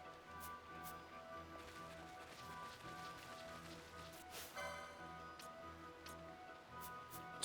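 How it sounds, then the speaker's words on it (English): Rain falling in the video game Final Fantasy XII: faint, steady patter of drops on surfaces with scattered ticks over low background music, continuous and soft, with no voices. "Oh, it's raining."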